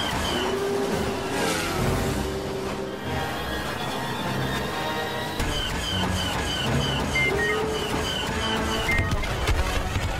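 Speeder bike engines whining and revving during a chase through the forest of Endor in Star Wars Battlefront, a continuous buzzing drone with pitch sweeps and passing swells, mixed with game effects.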